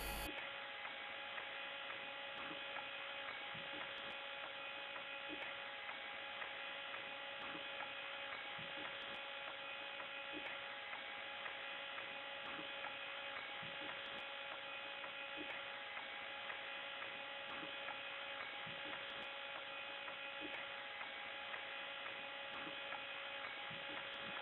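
An electric motor runs in neutral, turning a pulley through a rubber belt, giving a steady, even hum with a faint regular ticking that holds at constant loudness throughout.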